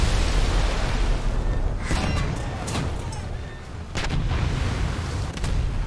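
Warship guns in a naval combat game boom repeatedly, dense heavy blasts and rumbling reports layered into a loud, continuous barrage.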